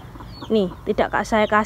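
Chickens in a tall, open-sided poultry coop cluck in short, close bursts, several quick calls in a row, with faint background noise around them.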